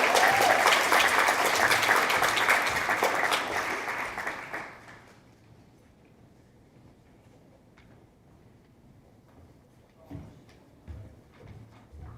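Audience applause fills a student leadership recognition ceremony hall, loud and sustained for several seconds before fading out, leaving a quiet room with a few faint claps and shuffles afterward.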